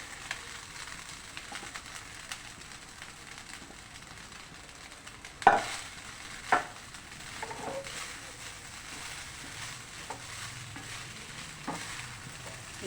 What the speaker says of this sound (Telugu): కొంచెం వేగిన తర్వాత రైస్ వేసి కలుపుకోవాలి.